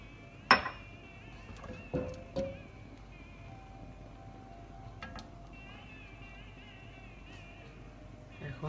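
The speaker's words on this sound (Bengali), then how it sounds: "একটা কড়াই নিয়েছি, কড়াইয়ের মধ্যে এখন তেল ঢেলে দেব।" A wok set up for a hilsa fish curry gives a few sharp metallic clinks and knocks early on, then a quiet kitchen background with faint scattered clatter.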